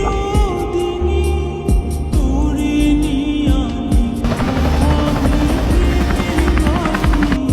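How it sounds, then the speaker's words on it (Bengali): Helicopter rotor and engine noise, a steady, loud, continuous drone with a throbbing pulse and a humming tone that grows slightly busier partway through, with no talking. "আপনার লোকেশনে হেলিকপ্টার পাঠানো হচ্ছে।"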